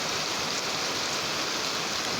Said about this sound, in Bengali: বৃষ্টির আওয়াজ, বৃষ্টি দেখতে আমার খুবই ভালো লাগে।